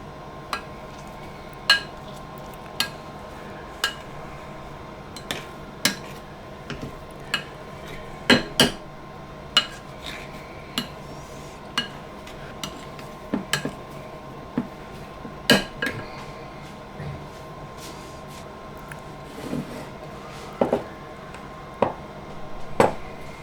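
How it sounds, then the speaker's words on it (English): Potatoes being mashed in a pan, with repeated irregular metallic clinks and knocks of the masher against the pan over a quiet background, close and fairly sharp. "Right, we're going to mash potatoes now."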